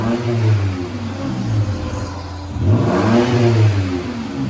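A Toyota Tacoma 3.5L V6 with an aftermarket exhaust revs loudly twice, each rev climbing and dropping back, close by with no talk.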